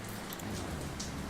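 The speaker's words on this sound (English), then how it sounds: "it is pouring down rain outside right now where I am" Heavy rain pours down steadily outdoors at a mountain motor racing circuit, a dense, even hiss filling the air with no voices.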